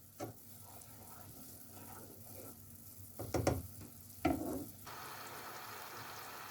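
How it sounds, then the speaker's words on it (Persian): Saffron syrup with glucose and cardamom powder for honey okra is stirred and boiled, quiet bubbling and sizzling broken by a few short clinks and scrapes of stirring, no voices. "باید مواد رو هم بزنید و 10 دقیقه با حرارت بالا بجوشه"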